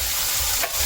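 Onions and potatoes fry in hot oil for an aloo curry, giving a steady close sizzle that stays loud and even with a brief dip near the end.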